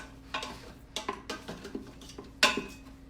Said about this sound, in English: we're just going to mix that up